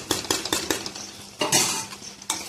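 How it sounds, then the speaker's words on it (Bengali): Pointed gourd stirred with a spoonful of sauce in a pan, a rhythmic series of sharp spatula scrapes and knocks against metal over a soft sizzle, close with no talking. "একটু নাড়াচাড়া করে নেব।"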